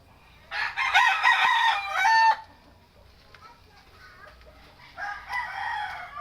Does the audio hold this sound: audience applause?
no